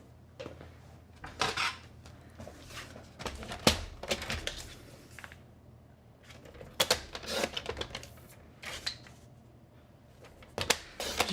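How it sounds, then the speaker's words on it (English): Cardstock being cut into four handle strips for a circle-handle gift bag, heard as scattered crisp snips and rustling paper handling in irregular bursts, close and moderately quiet with no talking. "So I'm gonna cut this 11 inch length into 4 2 3/4 inch pieces."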